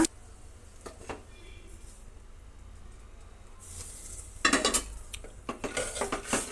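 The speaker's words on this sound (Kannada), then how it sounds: "ಒಗ್ಗರಣೆ ಆಯ್ತು ಈಗ ಸಾಂಬಾರನ್ನು ಅದಕ್ಕೆ ಬಗ್ಸೋಣ" Spinach dal being poured into a tempering and stirred in a pot, a quiet stretch with a few light taps, then loud metal scraping and clanking of a spoon against the pot in bursts near the end.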